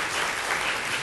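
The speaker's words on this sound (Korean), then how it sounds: "큰 박수로 맞이해 주시기 바랍니다." An audience at a 2010 school entrance ceremony claps to welcome the dean, a brief burst of dense, even applause filling the room.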